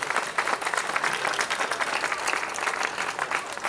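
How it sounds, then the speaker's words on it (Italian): Crowd applauding at an outdoor political rally for a mayoral candidate, a dense, steady wash of many hands clapping at close range with no voices breaking through. "ricominciamo sempre con un altro applauso per Giuseppe Sottile"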